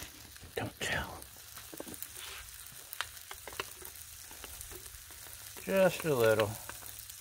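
Garlic sizzles on a Blackstone griddle with spaghetti, a steady, quiet frying hiss running throughout, while a person speaks briefly near the start and again toward the end.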